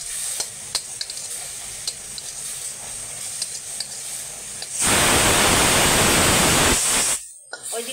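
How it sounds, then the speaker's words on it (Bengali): Hilsa fish fat frying in a pan, first a soft crackle with scattered pops and stirring, then a sudden loud, steady sizzle that cuts off near the end. "আমি এটাকে মাছের তেলটাকে একটু ভেজে উঠিয়ে রাখবো।"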